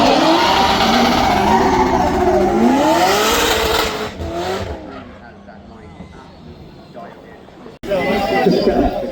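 Drift car engine revving hard at the Goodwood drift competition, loud and sustained with rising and falling pitch, then easing back before surging again, heard beneath an excited commentator and crowd chatter.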